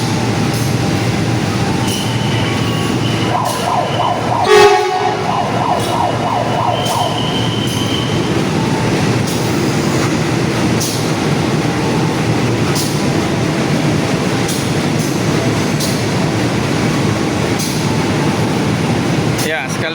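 New-generation KA Pasundan passenger train at Lempuyangan station, a loud, continuous rail rumble with faint wheel squeal and tonal whines, under some talk.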